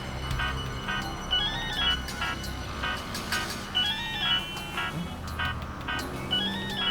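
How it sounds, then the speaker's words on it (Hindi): A mobile phone rings with a repeating melodic ringtone in a TV crime drama scene, the tune cycling several times over background music. "शायद किडनैपर का फोन होगा।"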